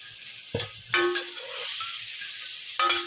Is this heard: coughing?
no